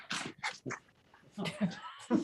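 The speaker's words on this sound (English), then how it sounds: "That was my dog." A dog whimpers and whines in short, close bursts in the background of an online committee meeting, a few high plaintive cries with brief gaps between them.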